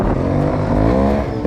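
Trials motorbike engine revving in second gear, a loud close steady drone with rising and falling pitch as the throttle opens, running throughout.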